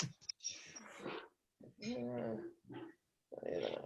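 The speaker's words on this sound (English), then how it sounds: "Collie Cross, he's basically a Heinz 57." A collie cross dog whimpers and grumbles in short, broken bursts, close by, separated by brief pauses.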